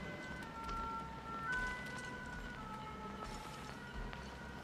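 Distant ambulance siren wailing steadily through a quiet room, faint and continuous over low background noise.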